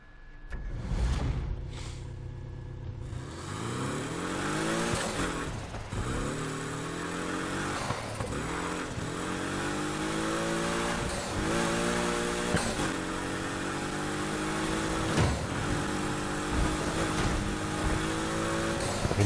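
A rally-modified Dodge races in the Need for Speed Heat video game, its engine revving hard through repeated rising gear pulls with brief drops between shifts, loud and continuous.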